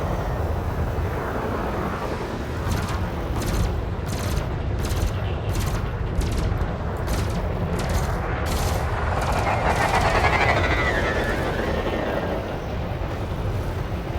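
A plasma accelerator weapon fires in Elite: Dangerous in a rapid series of heavy bursts, layered over a constant loud ship engine roar, with a voice talking at points.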